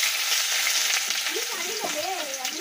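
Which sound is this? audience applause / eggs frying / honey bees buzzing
eggs frying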